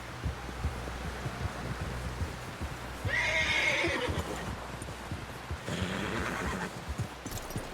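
Horses in the Red Dead Redemption 2 video game, hooves clip-clopping steadily while two loud whinnies break out in the middle and near the end.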